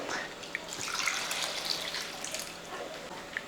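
Water being poured into a pot of rice for lemon rice, a steady splashing, running flow close by with a few small drips and clinks, no voices.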